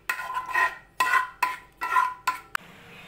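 A spoon clinks and scrapes against a pot or bowl while salt is mixed into homemade tomato ketchup, five or six short sharp metallic strokes in an irregular rhythm, close and fairly quiet.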